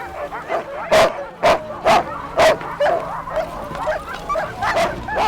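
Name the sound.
sled dogs barking during a dog sled race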